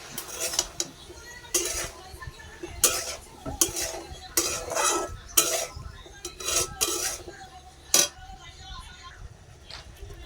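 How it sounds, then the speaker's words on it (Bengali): Vegetables seasoned with salt are stirred and sautéed in a pan, with a metal spoon scraping and clanking against the pan in irregular bursts over a low sizzle, some louder strikes standing out. "একটু কষানো যাক"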